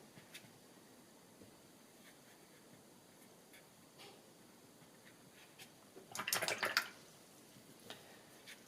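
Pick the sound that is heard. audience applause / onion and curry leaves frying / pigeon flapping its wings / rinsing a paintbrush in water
rinsing a paintbrush in water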